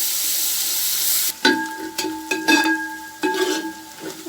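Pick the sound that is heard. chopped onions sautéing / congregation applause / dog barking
chopped onions sautéing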